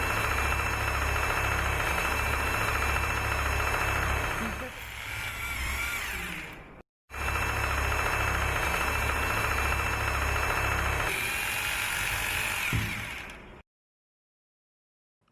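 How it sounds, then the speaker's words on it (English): A power drill with an 8 mm bit whines loudly in two long bursts while drilling holes into a wall, its pitch shifting as it bores in, with a brief pause between and silence at the end. "Drill carefully 2 holes into the sticker markings using 8 mm"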